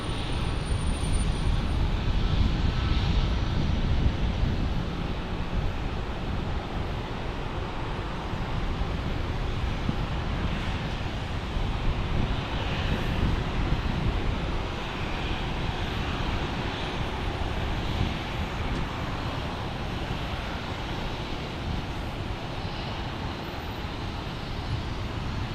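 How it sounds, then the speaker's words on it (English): An American Airlines Boeing 737-800 on runway 28 right at Fort Lauderdale International Airport, bound for Dallas, rumbles with a steady, heavy jet-engine roar, loudest early and holding broadly even as it continues, with no talking. "American 737 is first to runway 28 right, headed to Dallas, Texas,"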